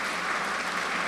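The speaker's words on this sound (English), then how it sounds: "Clap if you agree." An audience in church clapping together, a brief dense wash of many hands applauding at steady volume with no voices on top.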